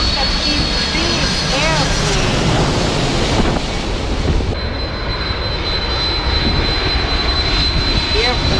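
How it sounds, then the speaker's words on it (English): A big airplane flies past outdoors, its engine a steady, loud broadband roar with a whining tone, heavy wind noise on the microphone, and no talk. "We have here another airplane just flying."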